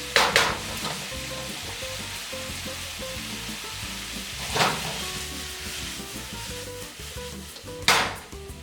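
Shaved Brussels sprouts and garlic frying in a pan make a steady, fairly loud sizzle, broken by a few sharp scrapes of stirring, close up with no voices.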